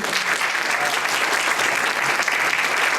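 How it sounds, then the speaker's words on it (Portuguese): Audience applause for a speaker at a talk, a dense, steady roar of clapping hands that stays loud and even from start to finish, with no voice rising above it. "Pessoal, uma salva de palmas para o Sidney"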